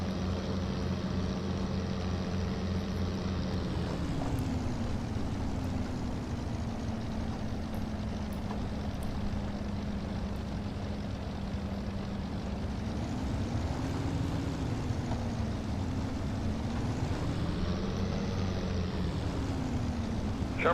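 The engine of a Globe Swift GC-1A light aircraft runs steadily during a simulated taxi, a continuous droning hum whose pitch sags and then rises and wavers with throttle changes, alone without talk.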